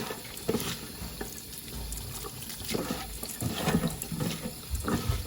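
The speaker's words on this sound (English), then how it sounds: "You just want to run it under the tap kind of." A kitchen tap runs water over poha in a sieve. The steady splashing rush stays close and fairly loud, with small changes as the flakes are moved under the stream.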